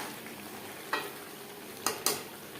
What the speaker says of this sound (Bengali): লবণ হলুদ দিয়ে আলু ভেজে দেবো।